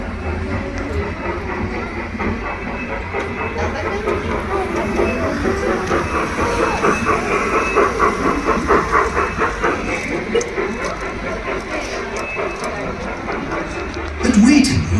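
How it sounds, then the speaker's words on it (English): A miniature model railway train, built at 1:32 scale, runs along its tracks at a museum with a soft hiss and light rhythmic clicking, while people talk over the top. "This train is just 32 times smaller than the standard size."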